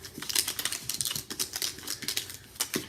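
Vellum paper crinkles under a blending brush, a rapid series of close, dry, papery ticks and rustles in an irregular rhythm, quiet and alone.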